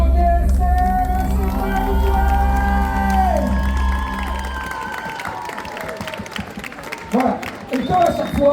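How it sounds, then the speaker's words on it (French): At a cosplay contest results ceremony in Blois, sustained musical tones give way to a crowd cheering, clapping and whooping for a duo on stage, the roar swelling in uneven bursts toward the end. "Je vous demande un tonnerre d'applaudissements pour le duo DSL."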